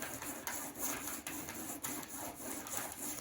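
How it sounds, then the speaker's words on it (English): Crayon rubbed over paper laid on a metal cookie cooling rack, making a quiet, scratchy rasp with rhythmic ticks as the crayon crosses each wire of the grid. "I wonder what happens if I do a texture rubbing on here."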